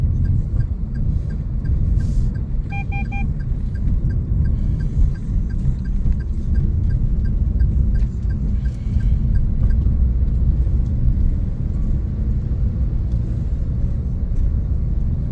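A car crawls through a morning traffic jam on the road from Gading Serpong to Jakarta, giving a constant low interior rumble with faint rattles and occasional soft clicks.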